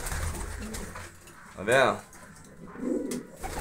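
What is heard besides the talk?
pigeons cooing in a pigeon loft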